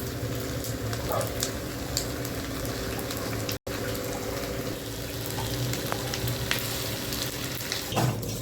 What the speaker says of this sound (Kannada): ಇವಾಗ ಫ್ರೆಂಚ್ ಫ್ರೈಸ್ಗೆ ಆಲೂಗೆಡ್ಡೆನೆಲ್ಲ ಫ್ರೈ ಮಾಡ್ತಾಯಿದ್ದೀವಿ.